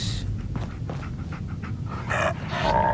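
A dog companion in the Fallout video game pants steadily in quick, breathy bursts, close and moderately loud, over a low ambient rumble with no talking.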